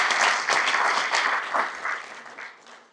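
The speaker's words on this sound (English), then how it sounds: "let's give them all a round of applause for completing this 6 weeks" An audience applauds graduating Youth Service Officers at their CORE Academy graduation ceremony. A brief burst of steady clapping swells, then tapers off within a few seconds.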